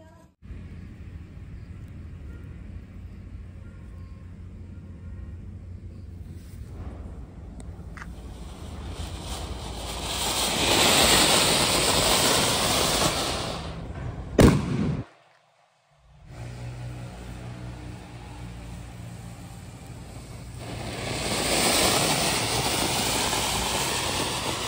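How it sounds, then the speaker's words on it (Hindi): A Sita Geeta Diwali firecracker sprays like a fountain with a loud, rushing hiss, then cracks in a sharp bang followed by a brief silence before the next one roars out. "पहले इसमें अनार की तरह से निकलता है फिर वो फट जाता है बहुत ही तेज आवाज के साथ में"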